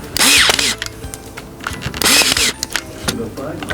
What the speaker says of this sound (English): then I'll use a nailer.